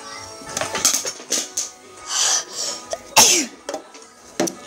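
A person sneezes several times in a burst, with sharp bursts of breath and nose noise close to the microphone, mixed with soft shuffling and movement sounds in a room.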